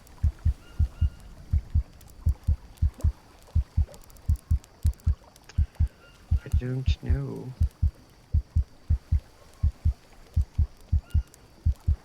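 A heartbeat in the VR survival video game GHVR thumps in steady, low, paired beats throughout, close and prominent, with a person briefly talking over it midway.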